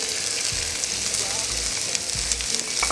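Garlic sizzles as it hits frying meat pie filling in a pan, a steady close hiss with occasional stirring scrapes and a faint voice underneath.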